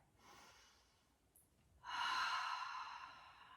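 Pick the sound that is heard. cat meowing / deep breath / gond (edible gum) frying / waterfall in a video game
deep breath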